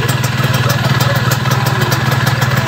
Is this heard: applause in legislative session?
no